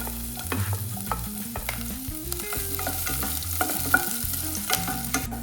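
Green chilies, ginger, garlic and whole spices such as cinnamon, cloves, star anise and cardamom fry in hot oil in a pan, a steady close sizzle broken by sharp pops and the scrape of stirring.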